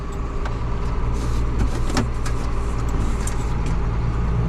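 A combine harvester creeps forward on hand throttle in a bean field while preparing to unload into a grain cart, a steady low engine drone with faint clanks and rattles, close and continuous.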